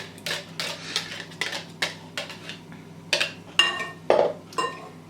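A hand whisk beats whipping cream and condensed milk in a bowl, with a series of sharp metallic clinks and scrapes against the bowl in an uneven rhythm, close and clear over a quiet background.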